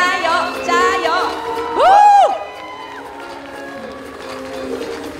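Children and adults at a children's forum opening ceremony cheering loudly for the stage superheroes, with mixed shouts building into a big rising-and-falling whoop, then easing into softer crowd murmur.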